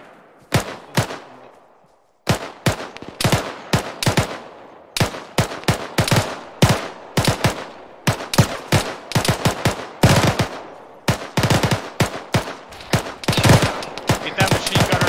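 Rapid automatic gunfire and single shots crack through a military video game battle, bursts repeating almost continuously after a brief pause, loud and close with sharp echoing tails.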